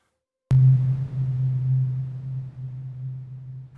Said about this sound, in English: Low frequency sine.